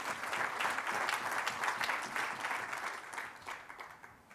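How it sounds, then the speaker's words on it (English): A conference audience gives a sustained round of applause, even and continuous at first and then thinning and fading toward the end, heard from within the hall without voices on top. "Just give a round of applause to yourselves."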